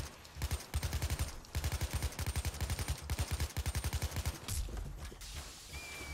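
AK-47 automatic fire from the Payday 2 game rattles in long rapid bursts with short pauses, loud and punchy throughout, ending in a brief quieter tail.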